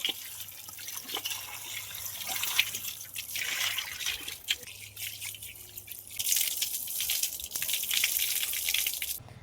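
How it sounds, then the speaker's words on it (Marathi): Bokar fruit is washed in clean water: splashing, dripping and trickling sounds come close by in uneven bursts, growing louder toward the end, with no talking. "आपण स्वच्छ पाण्याने धुवून घेऊ"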